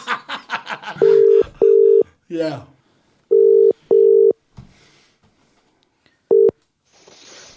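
Telephone dial tone sounding in five loud steady bursts with keypad dialing beeps as a call is placed during a podcast Christmas special, with people talking and laughing at the start.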